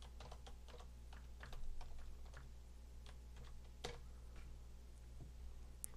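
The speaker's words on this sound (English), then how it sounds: "So we're going to put in our username and password." Quiet, close clicking of computer keyboard keys as a username and password are typed, in irregular bursts of taps with short pauses, over a low steady hum.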